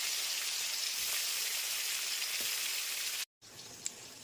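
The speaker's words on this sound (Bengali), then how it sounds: "তেল আমার ভালো মতো গরম হয়ে গেছে এইবারে এক এক করে মাছগুলোকে ছেড়ে দেবো" Prawns frying in hot mustard oil, a loud continuous close-up hiss and crackle of sizzling, briefly cut off near the end before resuming.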